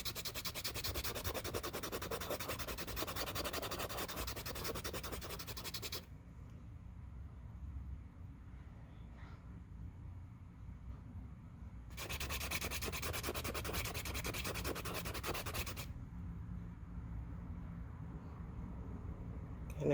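A cotton swab rubs back and forth against Genesis oil paint being tested for curing, a close, steady scratchy rubbing in two bursts with a quiet pause between them.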